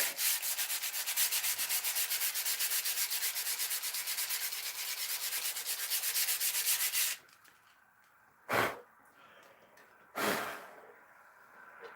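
Fine sandpaper rubs across wood in rapid, rhythmic back-and-forth strokes for about seven seconds, then stops, followed by two short, separate scrapes against a quiet background.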